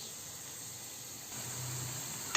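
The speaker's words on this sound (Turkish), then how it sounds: "Patateslerim de kızarıyor." Potatoes frying in a pan with oil, a steady soft sizzling hiss that swells slightly toward the end, heard alone and fairly faint.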